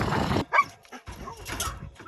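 A dog gives a few short, close whimpers and soft yips between quiet gaps, with restless noise in between, on a roof where shingles are being removed and installed.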